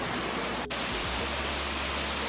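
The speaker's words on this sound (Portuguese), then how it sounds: "essa cachoeira da Marta tem 38 metros, é muito alto." The 38-metre Cachoeira da Marta waterfall in Botucatu gives off a loud, steady, hissing roar of falling water, continuous apart from one brief dip.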